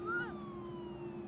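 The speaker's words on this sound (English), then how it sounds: "I heard the sirens." A fire department siren wails at a distance, a single falling tone sweeping down over a steady hum in a short burst.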